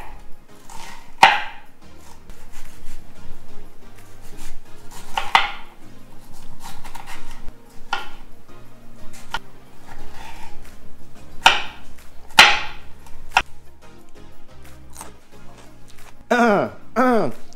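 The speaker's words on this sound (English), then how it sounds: "We're gonna chop these guys up and then put them on the pan" A knife chops onion, Roma tomatoes, garlic, jalapenos and limes on a board outdoors, giving scattered sharp knocks and clacks at an irregular pace, with occasional clatter and some background noise.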